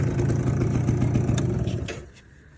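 A running old Yamaha Mint scooter engine, started by button, putting out a steady mid-pitched drone with some rattle that fades somewhat near the end.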